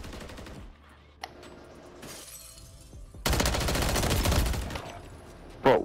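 Gunfire in a ranked Call of Duty: Modern Warfare 3 match: a few scattered single shots, then a sustained loud rapid burst of automatic fire lasting about two seconds, ending on one sharp close crack.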